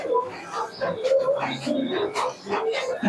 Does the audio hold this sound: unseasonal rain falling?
no